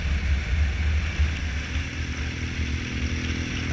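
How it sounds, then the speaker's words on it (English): A BMW R1200GS LC adventure motorcycle fitted with an Akrapovic exhaust on a ride, its steady low engine drone rumbling close and continuous, with wind noise and no talking. "now I'm actually riding a BMW, but this is the 1200 GS"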